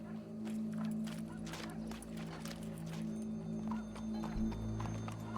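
Horse hooves clip-clop at a walk in the Red Dead Redemption 2 video game, faint irregular clopping over a low steady game ambience and a humming drone.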